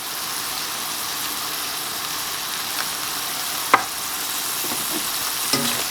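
Ground beef with chili powder, Southwest fajita seasoning, onion powder and garlic is stirred in a frying pan, giving a soft, steady sizzle with a few brief scrapes of the utensil against the pan.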